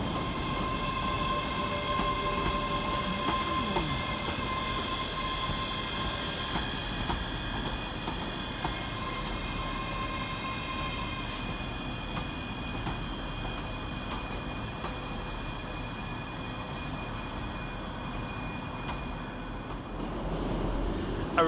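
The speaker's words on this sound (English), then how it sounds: "Arriving to terminate with a Scotrail service from Anniesland is 158739 and 158727." Two ScotRail Class 158 diesel units arrive to terminate at Glasgow Queen Street station, a steady rumble of rolling stock with a faint high tonal whine under the station ambience, no talk.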